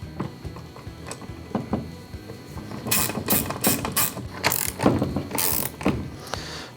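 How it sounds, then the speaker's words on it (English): A 9/16 wrench drives a bolt into a Hobie Mirage Passport kayak, with faint clicks at first, then a run of louder, sharper ratcheting clicks in uneven bursts close by. "And then I'll drive the bolt back in using a 9/16 wrench."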